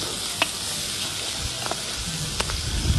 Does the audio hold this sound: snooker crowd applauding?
no